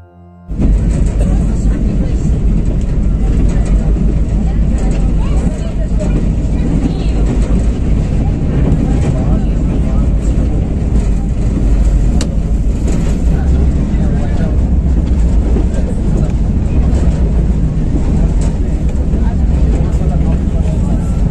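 Loud, continuous rumbling roar of the Maitree Express train running from Kolkata to Dhaka, a dense steady drone with a rattling texture that carries on unbroken.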